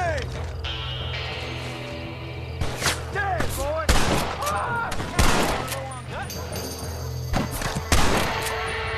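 Gunfire from the Western video game Red Dead Redemption: several sharp shots crack out at irregular intervals over steady game music and ambience, with a shouted voice around the middle of the exchange.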